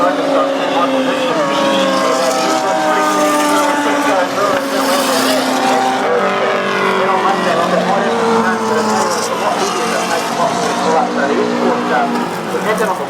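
A 324-horsepower, 900-kilo Mustang race car at the 2013 NZ Grand Prix meeting roars loudly as it passes, its engine note rising and falling through gear changes, under continuous excited commentary.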